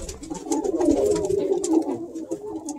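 Breeding pigeons coo softly and repeatedly up close, low throaty calls overlapping in a continuous murmur.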